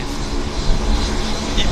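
A WestJet airliner comes in to land at Vancouver airport, its engines a steady, broad roar that stays close and loud for the whole moment.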